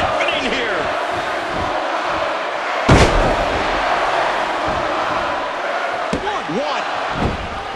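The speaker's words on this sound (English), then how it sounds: "All those superstars getting support from the crowd now." Loud, steady arena crowd roar in the WWE 2K14 wrestling game on PS3 during a Monday Night Raw episode, with a sharp thud near the middle and commentary voices over the din.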